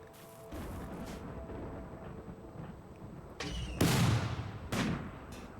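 Gunfire or artillery fire in a video game: a few heavy booming blasts with rumbling tails, the strongest near the end, over quiet background noise.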